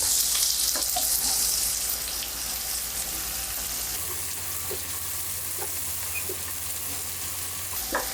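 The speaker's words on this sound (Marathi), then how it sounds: "ही केळी घालायची आणि तीही बटरवर छान परतून घ्यायची" Raw banana pieces sautéing in butter in a pan give a steady, close sizzle with occasional crackles and soft stirring scrapes, with no talk.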